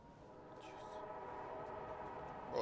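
A train rolls past in the Sniper Elite 5 video game, a steady low rumble with a faint whistle-like tone on top. It holds at an even, moderately loud level and swells briefly at the very end.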